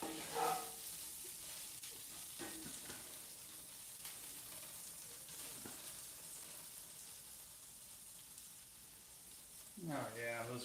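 Potatoes and carrots sizzle quietly and steadily in a pan on a homemade cooking setup, a soft continuous frying hiss, with brief speech at the start and end.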